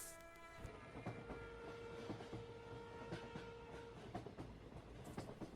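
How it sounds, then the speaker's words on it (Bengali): A train rolls along in a dramatized commuter ride, carriage rumble and clickety-clack steady throughout with a long sustained horn tone running through the first few seconds, distant and quiet, no voices. "প্রতিদিনকার অভ্যেস মতো প্রান্তিক ট্রেনে চড়ে বসেছে"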